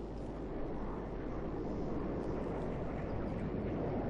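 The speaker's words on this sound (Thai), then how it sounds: "โหเสียงเครื่องบินดังมาก" Aircraft in the online shooter game Ghost Recon Future Soldier: a loud, steady broadband roar of a passing plane, dense and unbroken throughout, with no speech.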